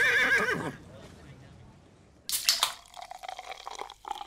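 A horse gives a short, high whinny at the start, followed by a quiet pause and then some clattering, splashy noises.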